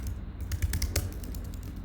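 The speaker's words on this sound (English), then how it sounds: "So I'm going to start typing" Rapid typing on a computer keyboard, a quick burst of distinct key clicks close to the microphone during a live stream, with no talking.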